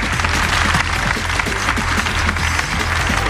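Audience applause at a live recorded show with a crowd, steady dense clapping throughout, fairly loud and close, with no talk over it.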